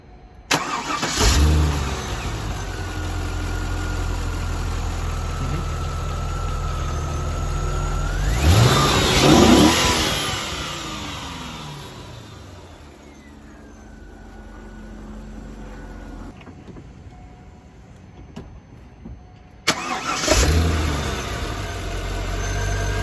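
A Corvette C5 with an aftermarket cold air intake idles, then revs hard in a loud burst of exhaust, drops back to a rumble, and revs again near the end, close by.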